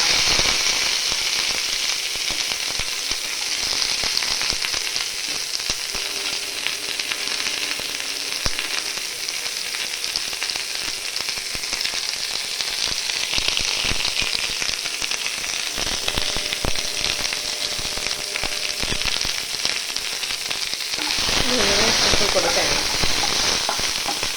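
Garlic, ginger, curry leaves and onion frying in coconut oil in a pan for green peas curry, giving a loud, steady, close sizzle throughout that flares up sharply near the end as more goes in.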